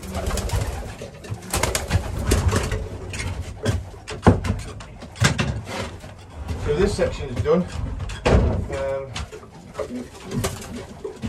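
Pigeons coo steadily inside a pigeon loft, a mix of close and nearby birds, while someone talks over them and occasional knocks and door-like thuds break in.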